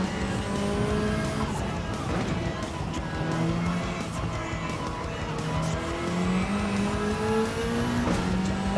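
A race car in Gran Turismo 7 dives into a gutter-run overtake, its engine droning loud and steady with shifting pitch while tires squeal and skid throughout.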